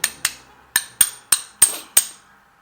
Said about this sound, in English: I'm going to go ahead and try to just hammer this part out here with just a little mallet here